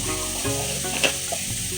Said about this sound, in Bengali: বাস এইভাবে আমি সোয়াবিনটা ভাজা করে নিব